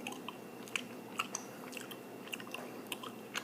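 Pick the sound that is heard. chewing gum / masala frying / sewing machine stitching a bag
chewing gum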